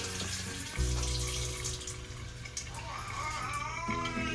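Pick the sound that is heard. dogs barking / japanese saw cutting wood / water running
water running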